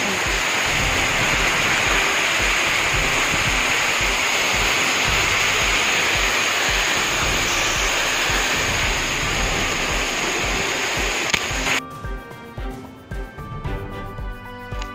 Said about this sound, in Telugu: వాటర్ ఫాల్ అయితే సూపర్ ఉందండి